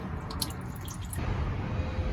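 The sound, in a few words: Ford truck radiator flushing, liquid dripping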